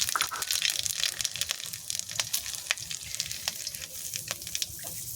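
Nigella seeds and dried red chilli hit hot oil with a loud, close crackling sizzle, dense popping and spitting that runs steadily throughout with no voices.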